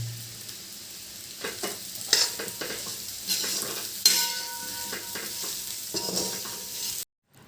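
A spoon stirs a methi muthiya mixture with spices in a pan, village-style cooking, producing intermittent scraping and clinking strokes over a soft sizzle, with clear pauses between movements before cutting off abruptly at the end.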